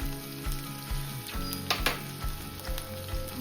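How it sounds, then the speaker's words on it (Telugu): Steady sizzling of ginger, green chilies and curry leaves frying in hot oil, with soft repeated knocks from stirring in the pan. "ఇప్పుడు పోపు వేయించుకున్న నూనెలోనే మనం స్టవ్ వెలిగించుకుని అల్లం పచ్చిమిరపకాయలు"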